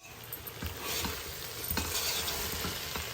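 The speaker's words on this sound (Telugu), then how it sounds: "బాగా ఈ మసాలా మొత్తం వీటికి పట్టేటట్టుగా కొంచెం బాగా తిప్పుకోవాలి" Soya chunks being stirred with masala in a pan, a steady sizzle with repeated scraping strokes of the spoon against the metal, close and continuous with no talking.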